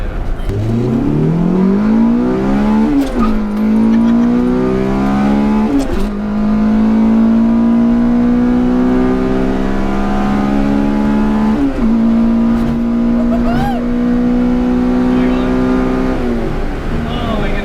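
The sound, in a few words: Honda car engine revving into VTEC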